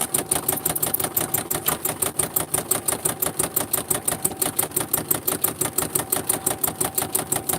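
Embroidery sewing machine stitching out a Mare's Leg pistol design, a fast even mechanical chatter of needle strokes repeating several times a second, steady and close with no talk.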